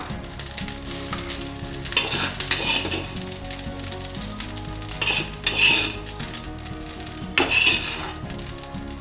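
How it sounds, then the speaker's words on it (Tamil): Cumin seeds dry roasting in a pan, a crackling sizzle interrupted by several bursts of metal spatula scraping and stirring against the pan, close and fairly loud. "ஜீரகம் இப்போ நல்லா வாசம் வர ஆரம்பிச்சிருச்சு, நல்லா வறுப்பட்டுருச்சு"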